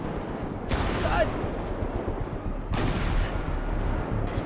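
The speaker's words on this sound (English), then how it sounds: "It's hard to hear with all these explosions." Heavy gunfire and explosions fill a GTA 5 roleplay firefight, with two big broadband blasts standing out over continuous rumbling battle noise, loud and close throughout.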